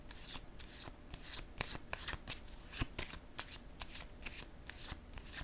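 Tarot cards are shuffled for a reading in quick, repeated riffling bursts of papery flicks and snaps, close up and with no talk.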